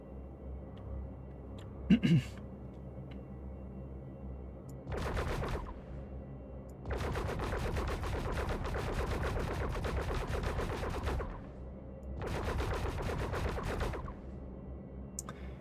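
Heavy cannon fire in the Star Citizen video game, loud sustained bursts of rapid booming shots, one short, one long several-second volley and a final burst, separated by brief lulls.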